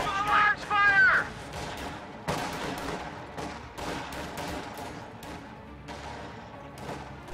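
A real-time strategy battle rattles with dense, rapid gunfire: a loud burst at the start, then scattered cracks and volleys that keep going at a moderate distance. Frantic talk runs through it.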